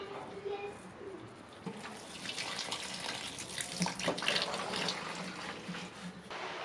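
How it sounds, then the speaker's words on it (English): Water poured steadily while watering plants, a close continuous splashing and trickling with faint birdsong in the background. "Watering plants."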